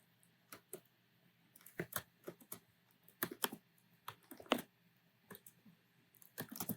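Fingers typing code on a computer keyboard, quick irregular bursts of soft key clicks with short pauses, close and quiet in a still room.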